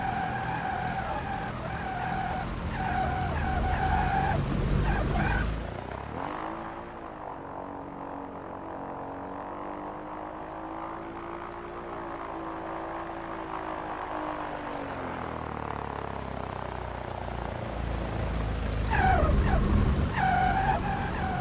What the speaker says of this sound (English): Don't you love the sound of tires being destroyed in the morning?